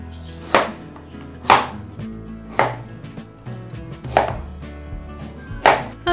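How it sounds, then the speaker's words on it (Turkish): A knife chops firm quince into small cubes on a cutting board, five sharp thuds spaced about a second apart, close and clear with no talking. "o şekilde ince ince küp küp doğrayın"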